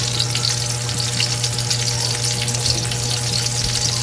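Onion and garlic fry in a pan at home, a dense continuous sizzle with crackling pops and a low steady hum beneath it.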